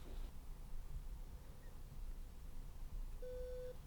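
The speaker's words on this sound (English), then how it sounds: "when it goes off, it will ramp the sound up from low up to the level you've set it at" Bose Wave SoundTouch 4 music player alarm going off with a steady electronic tone that starts quietly, heard faintly near the end over low background hiss.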